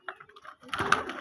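Pigeons kept at home give soft, close coos and throaty calls in a short burst, with a small scuffle of wings or movement toward the end.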